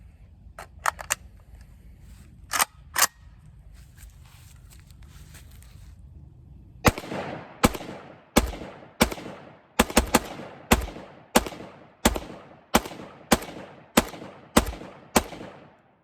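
A Zastava M90 rifle fed from a Galil magazine fires a run of single loud, sharp shots at a steady pace outdoors, after a few earlier clicks and handling noises.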